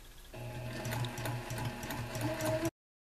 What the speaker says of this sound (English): So I'm going to set up at the sewing machine and we'll be back.